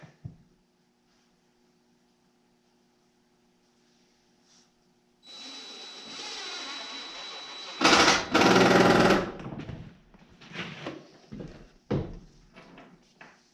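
A power driver runs steadily with a motor whine while driving screws into a homemade wooden key-hanging shelf, then surges into a louder, harsher burst before trailing off into scattered knocks and handling noises.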